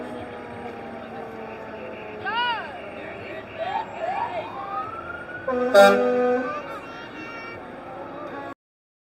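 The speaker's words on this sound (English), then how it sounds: "It is a ladder truck with a nozzle on the end, very helpful in fighting the fire at the Marysville Hotel." A fire department ladder truck fitted with a nozzle rolls past during a Christmas parade, its siren giving brief whoops and a loud horn-like blast amid crowd noise and nearby voices.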